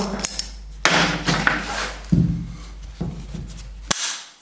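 Several sharp, close knocks ring out as a Schaffer tile spacer is struck free from the joint while tiling a shower interior, with short scraping and tool sounds between the hits.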